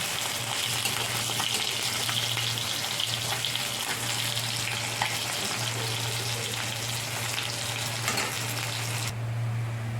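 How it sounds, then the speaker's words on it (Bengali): Fish frying in oil in a kadai, a continuous close, dense sizzle with a low steady hum beneath it and occasional faint stirring sounds, stopping abruptly near the end. "মাছটা ভালো করে ভাজা হয়ে গেছে"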